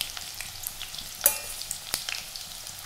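Short stretch of oil sizzling and spitting in a pan as garlic fries, with a few sharp pops breaking through the steady frying hiss.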